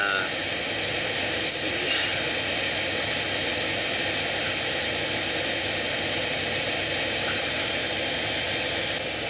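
A GMC Safari Astro AWD van engine idles steadily right after a tune-up with new spark plugs, wires, distributor cap and rotor, still cold with raised revs; a continuous even hum runs under a brief spoken remark.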